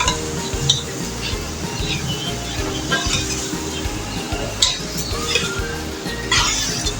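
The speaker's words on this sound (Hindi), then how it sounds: "अब हम इसको इसमें ऐड कर देंगे और इसको अच्छे से फ्राई कर लेंगे" Half a kilo of beef liver fries in a pan with ginger and garlic, a steady sizzle under repeated stirring and scraping, with light clinks of a utensil against the pan.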